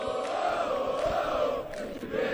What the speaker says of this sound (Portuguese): Sobe o som da torcida do São Paulo